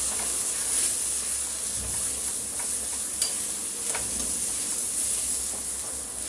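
Red chili spice mix with Kashmiri red chilli dry roasts in a pan over a low flame, a quiet steady hiss with occasional light stirring ticks and no speech.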